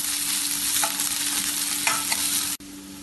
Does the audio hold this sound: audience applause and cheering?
no